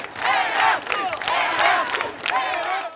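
A boxing crowd at the Brazilian championship finals in Campo Grande roars and cheers in loud repeated surges, voices swelling and overlapping close by.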